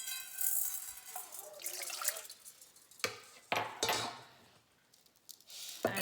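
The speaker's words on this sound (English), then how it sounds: "And this container, I use the 4 cups of the water. And I'll put 4 cups of the water." Water is poured into a container of mung beans for sprouting: a close, hissing stream with several sharper splashes and drips as each pour lands.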